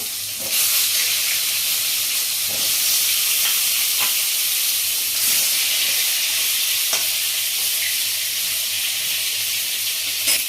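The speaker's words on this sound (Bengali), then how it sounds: "এক এক করে বটলগুলো দিয়ে দিচ্ছি ভাজার জন্য" Pointed gourd (potol) pieces fry in hot mustard oil with turmeric, making a strong, even hiss of sizzling and occasional taps as pieces are dropped in and stirred, close and unbroken by talk.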